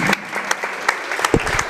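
A gym crowd at a high school basketball game claps for the game officials with a brisk, scattered patter of many hands, and a few low voices mix in near the end.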